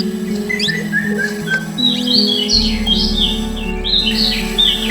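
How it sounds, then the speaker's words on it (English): Birds sing and chirp in an Indian forest, several high whistled phrases overlapping over a steady low background hum, continuing throughout. "A large number of beautiful birds add their melodious songs to the ambience of the forest."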